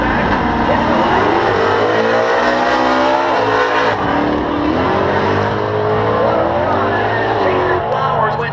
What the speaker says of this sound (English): Jason Flowers went top fuel dragster on us and just blew the tires off at the head